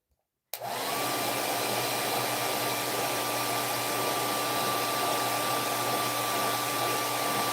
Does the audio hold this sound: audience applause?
no